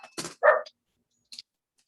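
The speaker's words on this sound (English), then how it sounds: "My dogs." A few short dog barks and yips, fairly close and loud, in two quick bursts followed by a brief higher yelp after a pause, with no talking.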